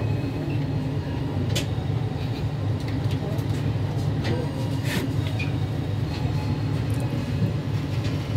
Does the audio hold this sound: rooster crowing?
no